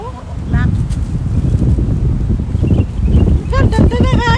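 Wind gusting across a microphone at a seaside beach at high tide in Alcott, a steady broadband rush under nearby chatter and voices throughout.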